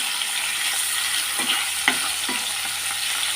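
Hilsa fish pieces fry in hot oil, giving a steady, close, hissing sizzle throughout with a few soft pops and spatula taps, no voices.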